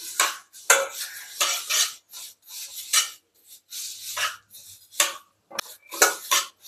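Semiya kesari with raisins stirred in a pan, close, rasping scrapes of a spoon against the metal in uneven bursts with short pauses between, no talk.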